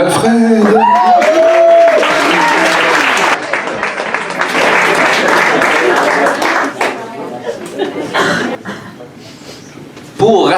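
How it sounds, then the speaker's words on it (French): An audience at a poetry slam applauds loudly for a poet, with dense, sustained clapping mixed with some cheers and chatter that fades over about ten seconds before a brief burst of noise returns at the end. "On applaudit, s'il vous plaît"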